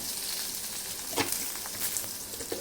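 Green chilies and curry leaves sizzle in hot oil with popped mustard seeds, a steady close hiss broken by a few sharp crackles and spits.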